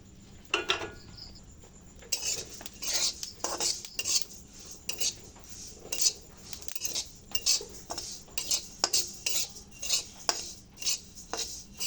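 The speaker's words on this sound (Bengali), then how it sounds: "কড়াইটা আমার ভালো করে গরম হয়ে গেছে, এবার আমি তিলগুলো ভেজে নেব" Sesame seeds dry-roasting in a hot wok, stirred with a metal utensil that scrapes and clinks against the pan in a steady, repeated rhythm, close and fairly loud.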